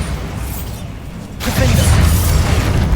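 A Bombarda spell explosion goes off in the video game Hogwarts Legacy, a loud burst at about one and a half seconds that swells into a sustained rumbling boom.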